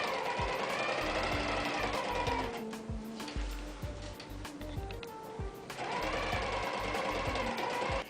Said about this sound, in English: now I'm going to sew the other side seam